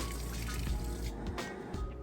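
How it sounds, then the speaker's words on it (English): A Maytag washer fills with clean water for the rinse, a steady close trickle and gush of running water into the drum that continues throughout without pause. "Then it's gonna fill back up with clean water, rinse"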